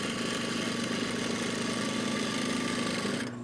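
A sewing machine steadily stitching a fabric shoulder bag, a continuous close mechanical whir with a fine rapid needle rhythm, cutting off abruptly near the end.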